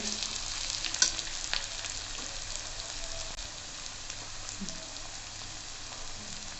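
Onions fry in a pan for choliya kadhi, a green chickpea curry, with a soft, even sizzle and a few light stirring clicks, fairly faint and without talk.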